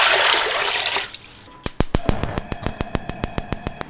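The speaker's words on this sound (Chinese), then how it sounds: "锅里浇水" Water pours steadily into a cooking pot for lamb offal for about a second and a half, then stops; a quick run of sharp clicks follows, like a gas burner being lit.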